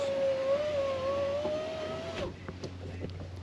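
The power window regulator motor on a GMC Sierra 1500 truck whines steadily as it raises the window for about two seconds, then stops with a thunk, followed by a few faint clicks and a low idle hum.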